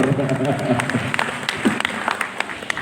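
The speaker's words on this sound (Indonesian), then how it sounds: "Tepuk tangan yang meriah untuk Habib Hussein Jabar." Applause from a crowd at an indoor Pancasila commemoration event, steady clapping with talk over it and a few sharper claps standing out.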